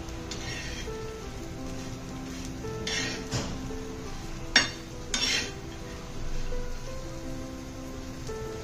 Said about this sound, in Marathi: अगदी 2 ते 3 मिनिटं ही मटकी व्यवस्थित अशा गरम तव्यावरती तुम्हाला भाजून घ्यायची आहे।